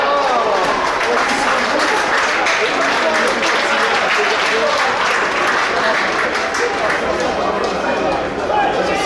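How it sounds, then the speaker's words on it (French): Crowd applause in the stands at a French National 2 football match, loud, dense and sustained clapping that fills the whole stretch, with commentary voices mixed in. "les applaudissements."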